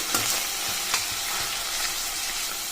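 Onion pieces fry in hot oil with a steady close sizzle, punctuated by a few soft scrapes and clinks as they are stirred in the pan.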